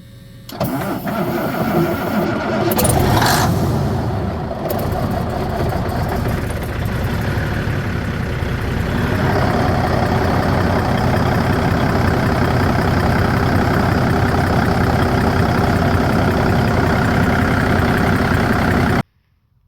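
A 1990 Ford L9000 truck's diesel engine cranks and catches within a few seconds, then settles into a loud, steady, rumbling idle close by that runs for the rest of the time before cutting off abruptly.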